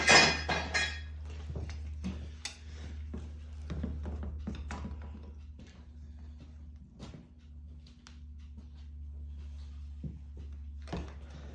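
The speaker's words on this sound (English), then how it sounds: "it's on there tight enough that I can't get it, so we'll use oil filter grip" A tight oil filter on a 2011-2014 Kia Sportage 2.4L being worked loose with an oil filter grip, giving a string of close, dull metallic thunks and taps over a steady low hum, with no talk.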